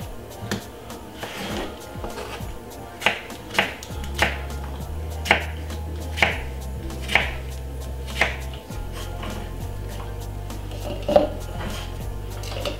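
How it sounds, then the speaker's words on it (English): A knife chops celery on a board in a series of crisp, evenly spaced strokes, close and clear over a low background hum. "I'm cutting up some celery to put inside of my blender"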